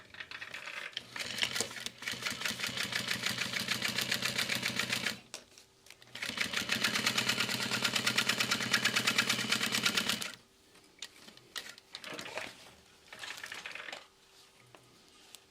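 Sewing machine stitching around the seam of a messenger bag, running in two long steady bursts with a short pause between and stop-start stitching after, close and fairly loud with no talk.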